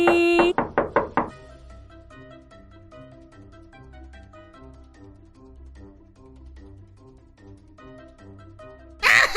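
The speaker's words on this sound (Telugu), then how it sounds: "ఇప్పుడొస్తుంది బ్లూటూత్ తో తలుపు కొట్టే సౌండ్" A quick burst of loud knocks on a door, then soft music playing, ending with another sudden loud knock.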